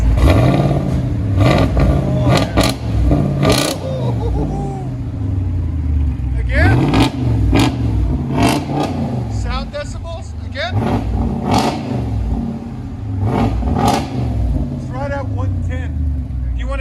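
A RAM truck revs with its resonator and muffler removed. Several deep, loud exhaust revs rise and fall up close, with people talking between and over them.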